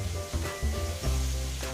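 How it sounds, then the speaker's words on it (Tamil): Steady crackling sizzle of marinated rock fish frying in hot oil, continuous and close, with a low bubbling rumble underneath. "அந்த ஊற வச்சுருந்த மீனை இப்போ பொரிக்கிற வேலை தான் பண்ணிகிட்ருக்காங்க"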